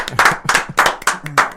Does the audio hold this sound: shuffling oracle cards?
no